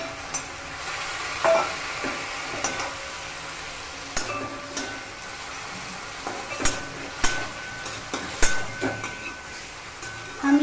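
Onion, tomato and green chili frying together in a pan for momo chutney, a steady close sizzle broken by intermittent scrapes and clacks of stirring.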